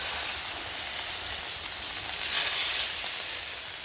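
Steak sizzles on outdoor burners, a dense, even frying hiss that holds steady for a few seconds, close and moderately loud with no voices.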